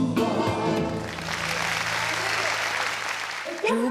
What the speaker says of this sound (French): Je vous prie de bien vouloir applaudir Maria Carolina et Maria Chiara de Bourbon de